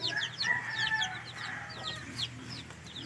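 Several free-range backyard chickens, including a hen with chicks, cluck and chirp nearby, overlapping short calls in a busy, uneven rhythm with a faint rooster-like crow in the mix.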